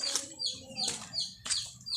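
Pigeons in a backyard loft, with several bursts of wing flapping and short calls spread over a couple of seconds, close by and moderately loud, with no talking.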